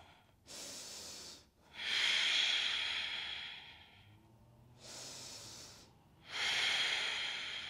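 Slow, deep breathing during an evening yoga flow, two full cycles of long airy inhales and exhales with a brief pause between them, close and soft, no talk over it.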